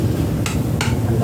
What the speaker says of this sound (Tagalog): Dahan-dahan lang po sa pagpukpok para hindi mapingat yung rubber.